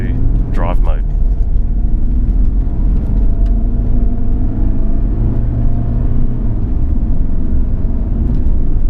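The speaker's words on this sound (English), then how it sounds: "So now I can just accelerate off again." A Mitsubishi Pajero NT automatic pulls away from a stop, its engine rumbling steadily and building up close by, with a brief chime or voice-like blip near the start.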